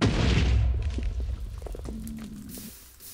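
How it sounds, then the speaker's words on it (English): A loud explosion in a video game opens with a deep, rumbling boom that fades into scattered debris clatter and a soft, low hum. "Well, that's an explosion."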